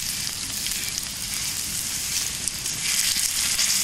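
A cast iron pan being seasoned over an outdoor campfire sizzles and crackles steadily and loudly, a dense hiss that swells slightly toward the end as it is stirred now and then.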